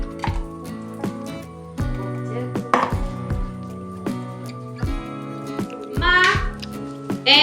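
A knife chops ginger on a cutting board in a home kitchen, sharp irregular knocks of about a dozen strikes, with a voice and other talk in the background.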